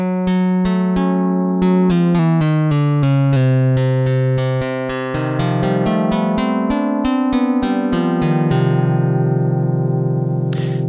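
A physical modeling synthesizer in Ableton Live, with a striker and a resonator, plays a quick melodic run of about two dozen struck notes. Each note has a crisp attack and a ringing, bell-like decay, loud and with no voices.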